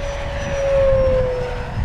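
An FMS Corsair 1700mm RC warbird on 8S electric power flies overhead, its motor and propeller giving a strong steady whine that swells louder as it passes and then eases, with wind noise underneath.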